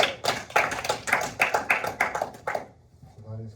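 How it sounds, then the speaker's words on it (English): Applause fills a classroom: a burst of clapping hands runs for about two and a half seconds in a steady rapid patter, then cuts off to near silence with a faint low hum. "Everyone give a round of applause."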